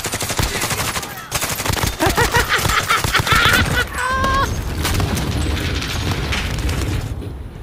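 Rapid bursts of gunfire and booming blasts from a cluster strike in Call of Duty Warzone, dense and loud throughout, with a short rising tone midway.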